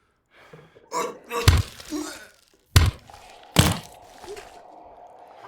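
Heavy thuds and a door slamming shut in the zombie video game Into The Dead, with several loud, sharp impacts spaced apart and scuffling and shuffling sounds between them.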